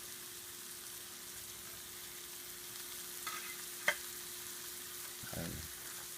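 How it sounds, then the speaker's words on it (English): Mushrooms sauté in butter with beef, giving a faint, steady sizzle with a few soft stirring scrapes and one small clink. "we're just going to saute them until they're tender and they've taken on some of the flavor from the butter"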